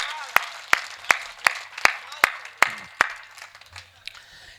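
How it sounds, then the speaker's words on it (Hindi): Loud, evenly spaced claps at a poetry gathering, about eight sharp strikes in a steady rhythm close to the microphone, tapering into scattered softer claps at the end. "एक बार हाथ खड़े करके पूरा सदन जोरदार तालियां देगा"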